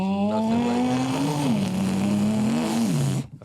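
A voice imitates a throaty Lamborghini Urus engine, holding a steady buzzing drone with a couple of pitch swells like revs, loud and close for about three seconds before cutting off.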